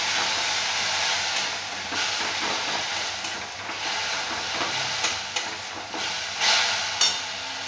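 Tomato masala being sautéed in a pan sizzles and hisses steadily and close, with a few louder scraping stirs toward the end.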